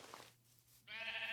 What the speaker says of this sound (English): And yeah, here are the sheep.